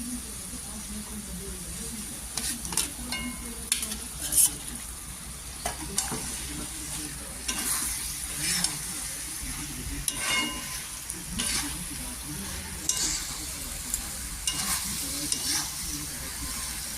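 Paneer and capsicum go into a pan with already-fried potatoes and peas, setting off loud close sizzling broken by repeated stirring scrapes and clatters, with some talk in the background.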